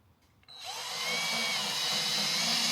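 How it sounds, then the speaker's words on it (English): Power drill boring practice holes into spare pallet wood: after a quiet start the motor spins up sharply and holds a steady high whine, loud and close, with no talk. "I'm going to make a couple of practice holes with the couple of spare pallets that I have"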